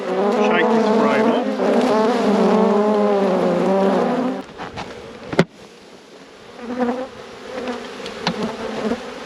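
Honeybees from a queenless hive swarm in a loud, dense buzz as a frame is shaken out, lasting about four seconds, then dropping to a quieter scattered hum with a sharp knock and a few passing bees close by.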